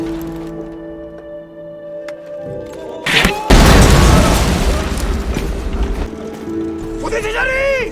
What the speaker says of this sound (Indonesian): sang kapten memerintahkan untuk menembakkan meriam